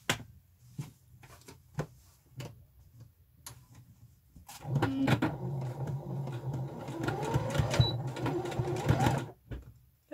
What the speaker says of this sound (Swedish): Då ska vi sy en rak söm här.